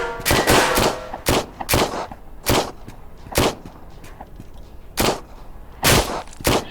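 Gunfire in the Trans-Siberian Railway Simulator video game, with loud, sharp shots in an uneven series, some clustered and others spaced about a second apart, heard close and alone.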